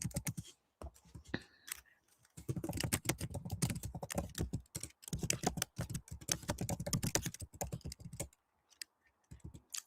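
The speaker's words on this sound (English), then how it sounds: "But I am going to be typing" Rapid, irregular clacking of a computer keyboard being typed on, close by and moderately quiet, in uneven bursts with short pauses and no talking.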